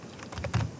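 A few keys tapped on a computer keyboard, close and crisp, with a slightly heavier press near the end and no talking.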